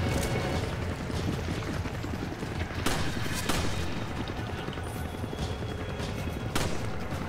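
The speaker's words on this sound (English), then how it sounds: "Why are you shooting at me?" Rapid gunfire from Resident Evil 5 fills the scene, with dense overlapping shots and sharper louder bursts standing out near the start, middle and end over a busy game soundscape.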